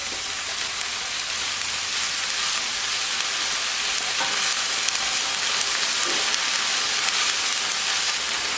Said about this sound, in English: And then I'm adding all my ripped apart spinach